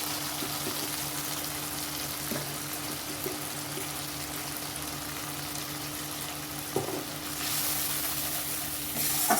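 Spices cooking in a mustard-based masala with salt, turmeric, chili powder and a splash of water give a steady, even hiss of frying, with only an occasional faint knock of a utensil against the pan.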